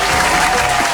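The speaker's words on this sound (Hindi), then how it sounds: "और तालियां बच्चों के लिए" Classroom applause for children during an Urdu phonics reading lesson, a steady burst of clapping from a group that fills the whole moment, dense and fairly loud.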